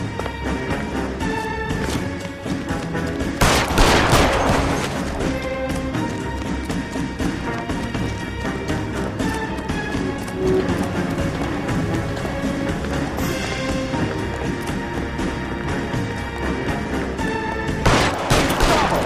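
Shootout gunfire in the L.A. Noire video game: dense, rapid shots crackle without pause throughout, with louder bursts standing out now and then and no speech.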